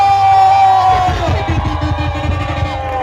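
A rally crowd at a Ruiru gathering cheers and shouts in loud, sustained waves, with whoops and yells rising over a dense, continuous roar.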